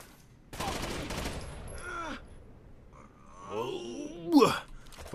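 Gunfire in the shooter game Rainbow Six Vegas 2, a dense burst of automatic shots followed by game sound effects and a later sharp crack, heard at moderate level with voice-like groans mixed in.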